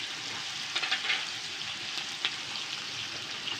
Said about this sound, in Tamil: வெங்காயம் நல்லா கோல்டு ப்ரௌனாக வணங்கணும்.